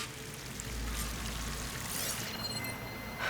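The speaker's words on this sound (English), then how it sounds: "That waterfall must be coming from somewhere." A waterfall in the video game Horizon Forbidden West pours in a steady, rushing wash, heard from a middle distance and fairly quiet, with no voices.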